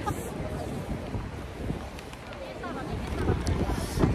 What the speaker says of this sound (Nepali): हावा चलेको छ